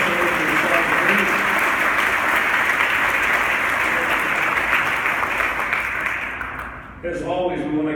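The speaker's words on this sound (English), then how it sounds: "Let's give a big round of applause for the Sergeant Reed." Audience at a Rotary Club luncheon breaking into loud, sustained applause after a Secret Service talk. Dense clapping fills the room, then fades and gives way to someone speaking.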